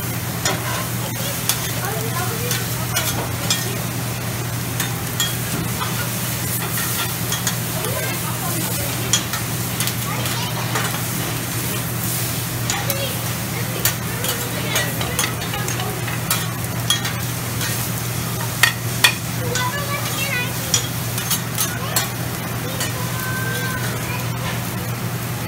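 Shrimp stir-frying on a Mongolian barbecue hibachi grill at a restaurant, a steady sizzle with scraping and stirring clatter, a low constant hum underneath and faint crowd chatter in the background.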